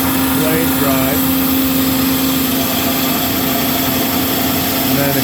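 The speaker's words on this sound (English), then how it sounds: "Switching in the hydraulic blade drive." Hydraulic blade drive of a Marvel MV 525 vertical mitering bandsaw switching on, a loud steady mechanical hum and whine with a strong constant tone, running without pause.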